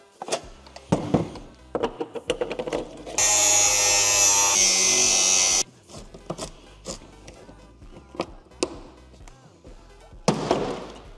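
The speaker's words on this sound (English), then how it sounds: "What I'm going to have to do is cut a little slot in them with the angle grinder." Angle grinder cutting a slot into a car part on a Vauxhall Astra VXR, a loud continuous roar lasting about two and a half seconds, set among sharp knocks and clatter of handling.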